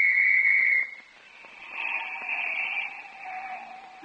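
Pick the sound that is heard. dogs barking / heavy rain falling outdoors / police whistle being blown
police whistle being blown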